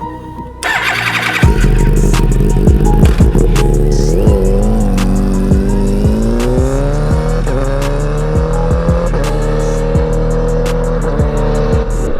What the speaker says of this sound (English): let's go ahead and drive to the local canyons to meet up with Tyler and put this helmet to the test